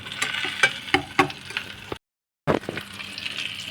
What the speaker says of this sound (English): I'm back to using the regular whisk, dude.